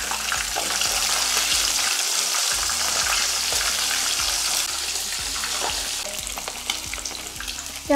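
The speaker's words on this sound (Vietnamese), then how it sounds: "Khi mà dầu nó nóng lên thì mình chỉ việc cho vào mình chiên thôi." Battered pork ribs fry in hot oil for lemongrass-chili ribs, a loud, continuous crackling sizzle that runs steadily throughout with no talking.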